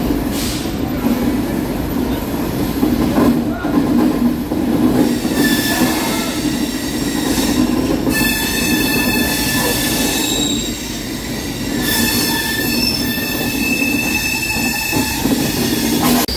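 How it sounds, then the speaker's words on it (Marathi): The Konkan Kanya Express rolls out of CSMT in Mumbai. Steady wheel rumble and clatter run throughout, with sharp, high metallic squeals of the wheels rising and fading several times. "आता आपली कोकण कन्या एक्सप्रेस सुटली आहे CSMT स्टेशनवरून"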